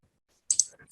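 A quick double mouse click, crisp and close, sounds in near silence while a file is saved on a computer.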